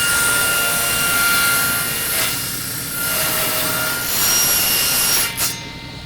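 A power saw cuts through wood while a kerfmaker jig is being made, producing a loud, steady whirring roar with a ringing blade tone that swells slightly during the cut, then drops off sharply near the end.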